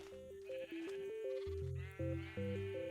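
Sheep bleating in the video game Minecraft, several wavering bleats in quick succession over a plucked melodic game music line, fairly quiet overall.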